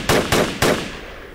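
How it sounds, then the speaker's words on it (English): In the Project Reality video game, a machine gun fires three sharp, loud shots in quick succession, each followed by a short decaying echo. "You see that one there shooting?"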